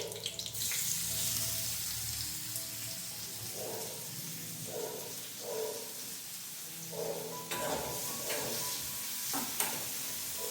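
Garlic and onion fry in a little oil for homemade pizza sauce, a soft hiss of frying with intermittent stirring and scraping, plus brief watery splashes, fairly quiet and without talk.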